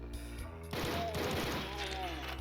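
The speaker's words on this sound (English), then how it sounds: "Ooh, who's shooting at me?" Gunfire in the video game Paar breaks out suddenly as a rapid burst of shots, dense and crackling, heard over a low background drone and overlapping a voice.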